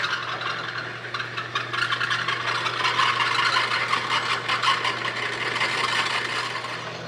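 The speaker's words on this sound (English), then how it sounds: "we're gonna stick a drill bit in there and drill it out" Steady grinding and rasping of a hand-turned drill bit biting into material, continuous and close for several seconds, with a low hum underneath.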